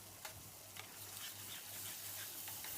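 Spice paste for homemade butter chicken poured into a pan and stirred, a steady soft sizzle with faint scraping strokes repeating through the pan, close and alone with no talk.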